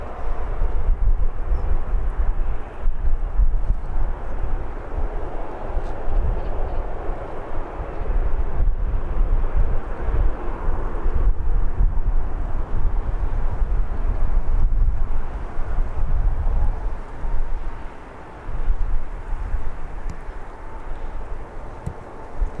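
A fixed-wing aircraft at Birmingham Airport produces a steady, loud engine roar that fills the whole stretch, mixed with microphone wind buffeting and no talking.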